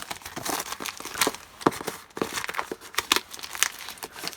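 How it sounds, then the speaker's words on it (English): Shrink wrap outer packaging torn off a Corsair VS650 650W power supply box, with loud, close crinkling and ripping in irregular bursts that keep going without a pause. "It's just in a shrink wrap outer packaging, which we'll just rip open."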